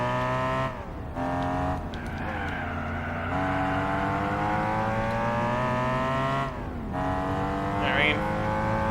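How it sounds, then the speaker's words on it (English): An inline-six engine in Gran Turismo 4 revs hard through the gears, a continuous loud harmonic howl with brief drops at each shift and a faint tire squeal late on. "I think I've seen inline 6s called like the perfect engine. I can see why. Like, listen to that sound."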